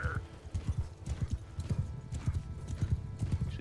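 A horse gallops in Mount & Blade II: Bannerlord, its rapid rhythmic hoofbeats steady and close throughout, with a brief whinny-like tone at the start.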